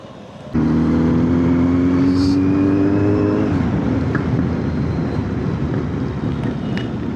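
A Kawasaki Z900 motorcycle engine fires up suddenly and holds a loud, steady rising rev before dropping into a rough, rumbling drone with wind noise as the ride begins.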